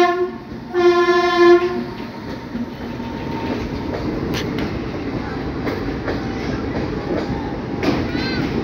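A special passenger train from Tanakpur to Kasganj, hauled by a Kanpur-based locomotive, passes nearby. Its loud horn blasts for about a second near the start, then the rolling rumble and rhythmic clatter of the wagons carry on steadily.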